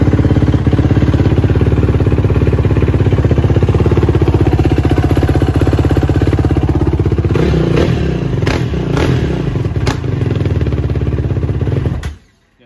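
A 2021 Yamaha YFZ450 ATV engine, fitted with a muffler and running untuned, idles loud and close with a steady rough chug, then stumbles into a few sharp uneven bursts before cutting off.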